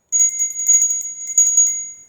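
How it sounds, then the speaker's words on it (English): A small bell, rung in a quiet room, sounding as a bright, high, rapid jingle in two or three bursts with a short ringing tail, clear and close with no talk. "Because yes, a bell."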